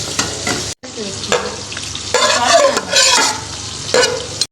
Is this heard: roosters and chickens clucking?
no